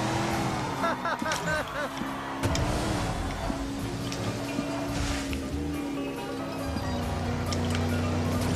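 Race car engine whines and shifts pitch while drifting through turns in the Cars 3 racing video game, with a steady roar of tires, noise and music underneath, and a voice talking over it.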